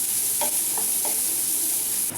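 Onions sautéing and being stirred in a pan for a mixed vegetable sabji, a steady close sizzle with a few soft scraping strokes of the spoon and no voices.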